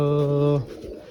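A single low, throaty pigeon coo rings out clearly at close range, then cuts off, leaving only faint background rustle.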